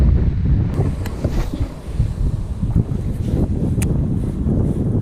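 Wind gusting across a fishing pond, rumbling and buffeting the microphone in uneven waves, steady and moderately loud with no talking.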